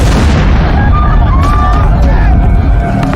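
A 4,400-pound propane tank explodes at a salt plant, a loud continuous roar of blast and burning with rumbling low-end crackle and babble of voices mixed in throughout.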